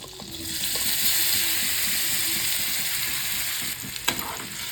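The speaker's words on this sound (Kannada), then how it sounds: "ನೋಡಿ, ಎಣ್ಣೆ ಕಾದಿದೆ. ಇದಕ್ಕೆ ನಾನು ಮ್ಯಾರಿನೇಟ್ ಮಾಡಿ ಇಟ್ಕೊಂಡಿದ್ನಲ್ಲ ಪನ್ನೀರು, ಅದನ್ನ ಹಾಕೊಳ್ತಾ ಇದ್ದೀನಿ." Marinated paneer frying in hot oil, a steady close sizzle and crackle that runs throughout with a few stirring clinks and a sharp spatter near the end, no talking.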